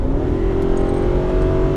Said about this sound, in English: Oh, V8 sounds great.